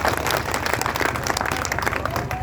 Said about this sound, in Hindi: आप लोग बहुत तौर से एक बार ताली बजाएंगे